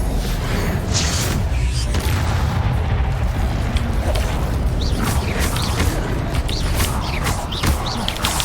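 Incendio fire spells are cast again and again in Hogwarts Legacy, giving loud whooshing, crackling bursts over a rumbling, creaking background that runs throughout.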